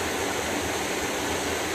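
Steady broadband rush of river water flowing beside a riverside campsite, continuous and even with no distinct events, heard close and alone.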